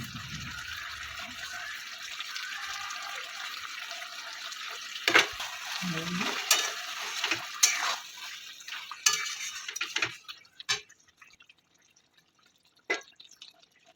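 A spoon stirs korma in a pan after fried onions are spread over it, giving close metallic scrapes and wet drips, busy at first and then thinning into scattered clinks.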